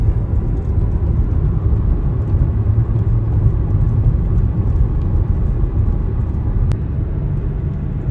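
Low steady rumble from inside a 2013 Toyota Allion cruising at around 100 to 110 km/h on a highway near Vladivostok, constant road and engine drone throughout with no talk.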